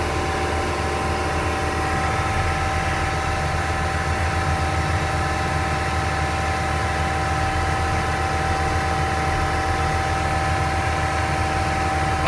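The engine of a Venieri 10.33C backhoe loader runs at full RPM, driving a HitchDoc snowblower. It makes a constant, loud, steady drone with no pauses or speech.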